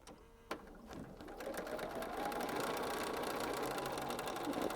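A sewing machine runs steadily, stitching a quarter-inch seam along pinned quilt block pieces, starting after a brief click and holding a continuous close whirring hum to the end.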